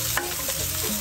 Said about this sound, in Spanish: Vamos a sofreír la cebolla.